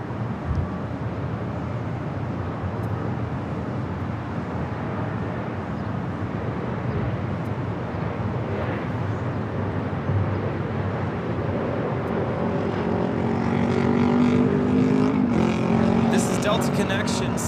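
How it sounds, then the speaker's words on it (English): A Korean Air Boeing 747-8 Intercontinental lands at LAX, its steady broad engine roar building louder toward the end as the jet nears, with continuous background noise throughout. "followed by the Korean Air Flight 101, the 747-8 Intercontinental coming in from Seoul"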